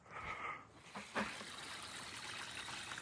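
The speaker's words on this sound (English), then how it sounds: "I'm running these girls some fresh water" Fresh water runs out for animals, a soft trickle and splash with a brief louder gush near the start, then a steady light flow against quiet background.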